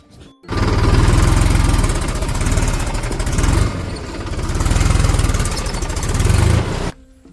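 A tractor engine runs loud and close in a farm field during rabi-season planting, a continuous rough mid-pitched drone that dips briefly around the middle and cuts off abruptly near the end.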